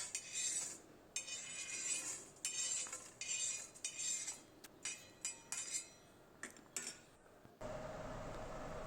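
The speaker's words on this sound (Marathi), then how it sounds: "आता मी याला ताटात काढून घेते." Leftover rice, fried and then scooped from a pan onto a plate, produces quiet rapid scrapes and clinks of a metal utensil, close and soft, ending in a steady broadband hiss after a short stretch, with no voices.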